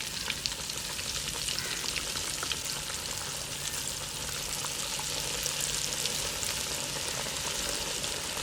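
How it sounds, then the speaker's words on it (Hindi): Crumb-coated chicken for a zinger burger deep-fries in oil heated on a high flame, giving a dense, constant bubbling sizzle that stays even and close from start to finish with no talking. "अब इसको डालेंगे ऑयल में। ऑयल को पहले हाई फ्लेम पर हमने मुकम्मल गर्म कर लेना है।"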